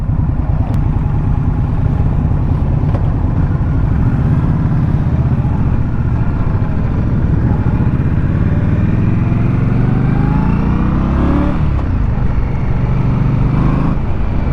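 Indian Scout Bobber motorcycle engine running loud and close, a steady low thrumming rumble that rises and falls slightly in pitch, heard alone without talk.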